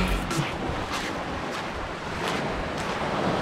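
Ocean surf at Amed, Bali, on a morning with strong current: a steady, close wash of waves and wind roar with soft rising surges and no voices.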